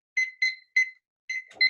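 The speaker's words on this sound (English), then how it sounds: "Sorry, timer went off." A kitchen timer alarm goes off in quick beeping bursts, three short tones, a pause, then two more, bright and clear against silence, with a brief rustle at the end.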